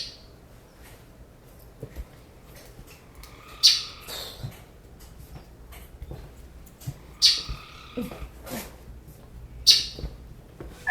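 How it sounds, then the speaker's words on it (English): Many birds chirp and squawk in an indoor aviary of cages, bright calls popping up every few seconds over a low steady room hum, with no talking. "Well, you probably hear a lot of birds."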